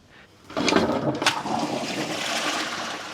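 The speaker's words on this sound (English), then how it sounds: "Emptying the toilet, if we're honest, isn't the easiest job on the road." A motorhome toilet is emptied, starting with a short quiet lead-in before a loud rushing flush of water that stays strong and turbulent, splashing and gurgling close by for the rest of the moment.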